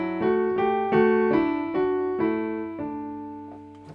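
Two-voice tintinnabuli texture, with a stepwise melodic voice over pitches from the tonic triad, sounding as clear, resonant piano-like notes struck roughly every half second that decay gradually, alone.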